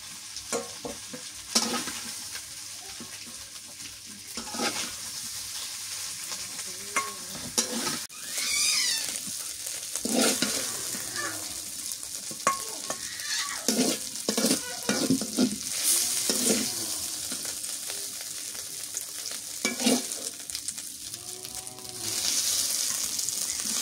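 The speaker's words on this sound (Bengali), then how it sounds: "এই যে সুন্দর করে ভাজা নিচ্ছি" Loud, continuous sizzling from a frying pan of vegetables, broken up by repeated scraping and clattering as the food is stirred and turned.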